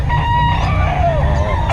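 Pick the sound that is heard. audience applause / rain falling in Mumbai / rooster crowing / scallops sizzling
rooster crowing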